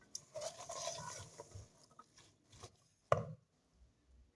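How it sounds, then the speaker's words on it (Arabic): A ladle stirs vegetables frying in a single pan, making quiet, irregular scrapes and soft knocks. One sharp clack stands out near the end against a faint background. "نخلطو بالمغرف ونخلي كل شيء يتقلى حتى يطيبوا هاد الخضره جيدا"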